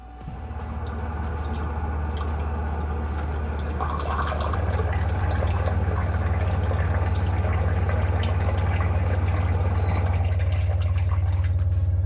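81 °C hot water pours steadily from a Hydrofast C300 reverse-osmosis water purifier dispenser for around twelve seconds over a constant low machine hum, with no one speaking.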